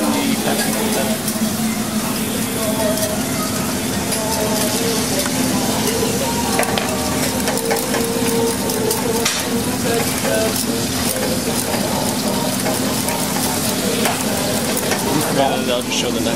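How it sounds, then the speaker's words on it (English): A boiling sugar mixture being whisked as pectin is added for a dessert, a steady dense bubbling and sizzling hiss with scraping stir strokes running throughout, close and fairly loud. "Our mixture is boiling, so we're going to whisk in the pectin"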